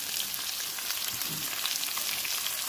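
Chicken breast fries in a pan for a curry, a steady close crackling sizzle with faint stirring and no voices.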